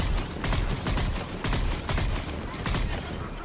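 Rapid bursts of gunfire from an enemy turret in the video game Mass Effect 3, several dense volleys separated by short gaps, loud and close, with a voice faintly mixed in.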